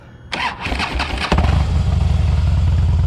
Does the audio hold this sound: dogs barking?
no